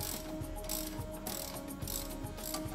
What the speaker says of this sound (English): Remove the sway bar end link to the shock mounting bolt.